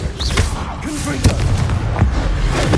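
A Confringo fire blast spell from the Hogwarts Legacy video game: sharp popping bursts and booms amid busy, loud game sound, with a faint voice in the mix.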